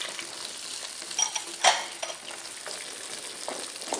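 Onions and carrots fry in hot fat for a meat and cream tagine, a steady soft sizzle with a sharper stirring clatter near the middle, no voices over it.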